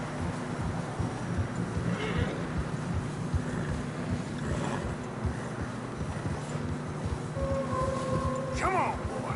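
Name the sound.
horses in snow, Red Dead Redemption 2 video game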